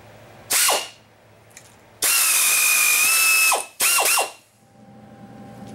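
Bearing race being pulled off a Ford 9N/2N tractor transmission input shaft with a homemade all-thread extension: three bursts of loud power-tool whirring and ratcheting, each ending abruptly, with brief quiet gaps between, no talk.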